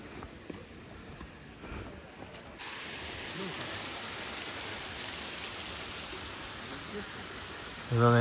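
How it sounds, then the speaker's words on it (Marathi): Waterfalls spilling down as thin streams on a monsoon hillside on the route to Raigad fort, heard as a steady broadband rushing wash that swells in partway through and holds evenly, with a brief louder thump at the very end. "हे बघा हे धबधबे बघू शकता"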